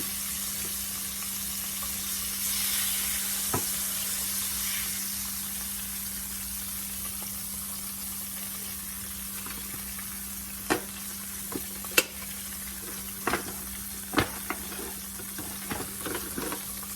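Cube steak frying in a pan gives a steady, moderately loud sizzle with a low hum beneath and occasional sharp pops and crackles growing more frequent toward the end.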